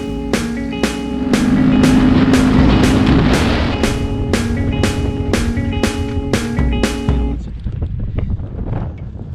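A custom-built two-seater 4x4 Raptor Power Wheels ride-on toy sets off on its first ride with a loud motor whine and steady, evenly spaced clicking that keeps pace, then fades to a rougher rumble.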